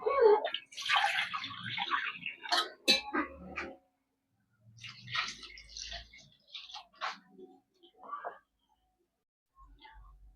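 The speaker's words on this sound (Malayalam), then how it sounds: "ഇനി കുറച്ചും കൂടി വെള്ളം ഒഴിച്ചു കൊടുക്കുന്നുണ്ട്" Water splashes as it is poured into soaked kudampuli (Malabar tamarind) for a homestyle mackerel fish curry, in a few uneven close bursts with quiet gaps between them and some soft voice-like sounds mixed in.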